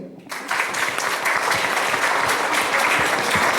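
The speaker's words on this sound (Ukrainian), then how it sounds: "Ваші оплески" An audience at a Ukrainian women's tribute event breaks into applause after a brief quiet start, swelling to dense, sustained clapping that stays loud and even to the end.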